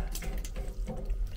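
Water running from a sink tap in a railway car washroom, a brief close, splashing flow with an uneven gurgle.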